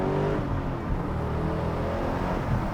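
A Chevrolet Camaro SS with a 6.2 engine accelerates hard from a launch, its deep engine roar loud and steady throughout the short burst, heard from inside the car.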